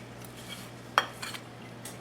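A knife cutting open a gluten-free Southern-style biscuit gives one sharp clink on the plate followed by a few soft scraping crunches, close and quiet, with no talking.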